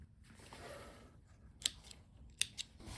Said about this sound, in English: I'm going to cut the threads